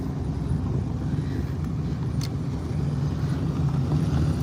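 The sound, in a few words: cars arriving at a car show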